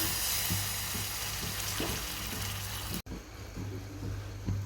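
Cauliflower curry with roasted peanut powder sizzles loudly in a pan after a little water is added, a steady crackling hiss with soft stirring knocks, dropping briefly before quieter sizzling resumes.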